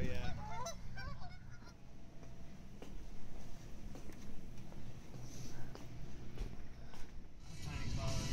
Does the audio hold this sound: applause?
no